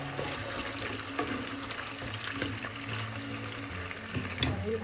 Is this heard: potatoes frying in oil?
yes